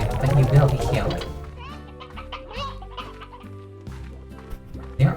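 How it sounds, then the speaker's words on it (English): Several chickens cluck in the video game Slime Rancher, with repeated short clucks and squawks over a steady tonal in-game background. "There are so many chickens on the ground out here."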